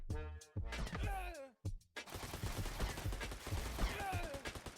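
Dense, rapid gunfire cuts down enemies in the co-op tower defence game Puropu Defence Squad, a sustained loud barrage after a brief stretch of talking near the start.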